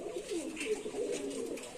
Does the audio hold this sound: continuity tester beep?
no